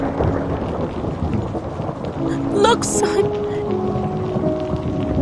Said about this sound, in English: It's snowing heavily outside and a storm is coming.